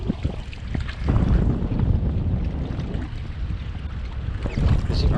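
Strong wind buffets the microphone on the Mississippi River in the French Quarter during rough-water catfish fishing from a boat, a loud continuous roar with gusty swells and no talking.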